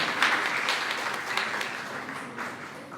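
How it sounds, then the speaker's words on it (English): Applause at a pageant introduction night for the event's sponsors, moderate clapping from a crowd that gradually thins and fades over a few seconds. "A round of applause for them."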